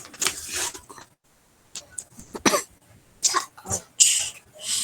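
A child coughs in several short, sharp bursts close to the microphone, separated by brief quiet gaps, with a throat-clearing quality to some of them.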